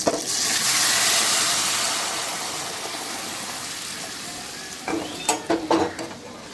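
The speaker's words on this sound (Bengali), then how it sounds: "এরপর সিদ্ধ করে রাখা ডালটা এখানে আস্তে আস্তে আমি ঢেলে দিচ্ছি" Boiled dal is poured slowly into a pan of hot fried spice tempering for a mango dal, setting off a loud, hissing sizzle that gradually fades, followed by a few clattering stirs.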